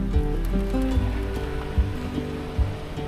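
Rain patters steadily on a surface under a low rumble, with a few dull thumps along the way.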